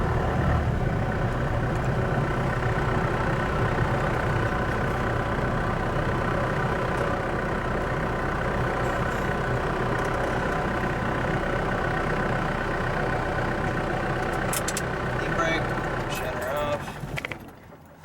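Manual Ford F150 pickup engine pulling away from a stop, a steady low rumble that holds even and continuous before tapering off near the end, with speech over the top.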